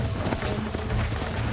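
Horse hooves clip-clopping in the Red Dead Redemption video game during horse breaking, a quick rhythmic run of hoofbeats with possible neighing, brief and moderately loud.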